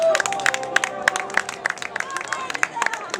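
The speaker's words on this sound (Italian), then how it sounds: "un applauso al maestro Lunetta!" Audience applause for maestro Lunetta at a live Italian comedy-music show, a burst of sharp claps and some cheering from a crowd, fairly close and steady, with background chatter.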